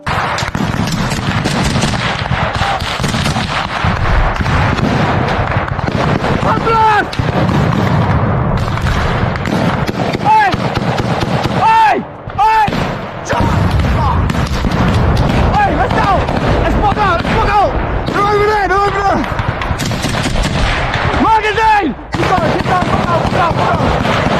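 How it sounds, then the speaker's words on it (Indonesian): Loud, continuous gunfire and booming explosions fill the scene, with shouting voices breaking through in bursts, during fighting between Ukrainian foreign legion troops and Wagner forces at Artemovsk. "Tembakan demi tembakan terdengar jelas."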